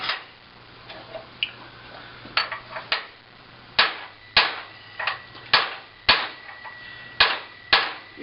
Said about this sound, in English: We're going to smash up a bolt.